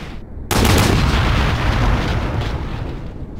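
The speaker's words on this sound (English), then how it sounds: "If I shoot here, the explosion will be here." Gunshots and a truck exploding at an oil refinery in the Hidden & Dangerous video game: a sudden loud close blast bursts in and rolls into a long roaring rumble that slowly fades, no talk.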